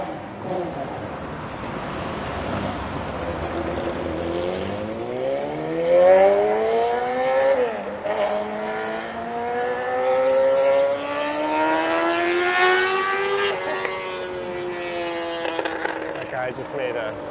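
A loud motorcycle passes along Yonge Street in Toronto, its engine note climbing through rising, whining gear pulls for many seconds before fading, heard from a moving e-bike amid street noise.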